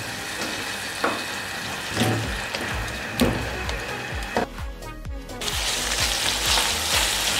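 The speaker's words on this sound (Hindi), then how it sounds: "अब दही का पानी खुश्क होने तक इसे पका लेंगे।" Mutton and yogurt gravy frying in a pot until the yogurt water dries off, a loud close sizzle under repeated sharp scraping knocks from stirring, with the frying hiss growing steadier toward the end.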